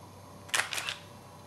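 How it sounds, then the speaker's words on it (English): Nikon D300s DSLR shutter fired in quiet release mode: two soft, close mechanical clicks in quick succession, the shutter then the mirror settling, alone in a quiet room. "now I'm going to turn the release mode to quiet and we'll try that once more."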